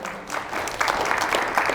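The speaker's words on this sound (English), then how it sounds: "give your committee a round of applause" People at a public meeting clap for the committee, a brief, close burst of applause that grows slightly louder after the first moment.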